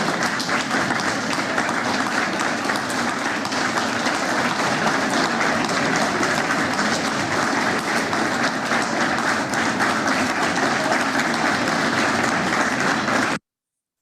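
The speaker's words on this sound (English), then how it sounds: "Just first one to start clapping. Okay, now synchronize." A lecture audience claps together for about thirteen seconds, a loud, continuous patter of many hands as the crowd tries to fall into a shared rhythm, then it stops abruptly.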